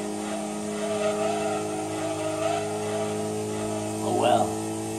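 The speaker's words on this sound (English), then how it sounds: "Did you guys hear that, VTEC?" Engine of a VTEC-equipped car in Gran Turismo 2, a sustained tonal drone that rises and wavers in pitch, with a brief swell near the end, heard under a talking voice.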